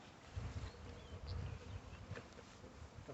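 A swarm of honey bees hums in a low, wavering drone close by, swelling and fading over a few seconds with no voices.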